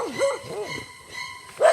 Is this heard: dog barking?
yes